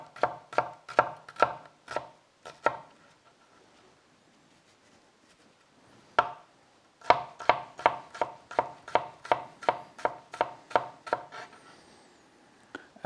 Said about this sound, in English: the rest of the onion we're going to chop finely